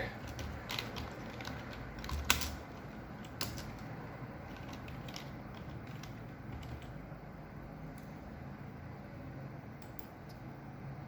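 Quiet, irregular clicks of typing on a computer keyboard, faint and close against a steady low background hum, with a few sharper key taps scattered through.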